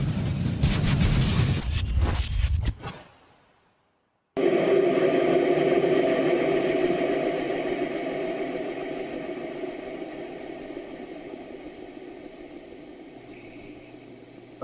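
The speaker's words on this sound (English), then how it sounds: "the sound of the engine starts to diminish as if maybe A's run out of fuel or B is being suffocated by something" Rocket engine roar, a harsh broadband blast that cuts out for about a second, returns as a steady rumbling roar and then gradually weakens and fades.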